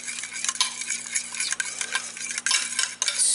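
A spoon stirs and scrapes a keto chocolate cream mixture around a pot taken off the heat, giving a continuous close-up swishing with small scraping strokes and brief pauses, and no one speaking.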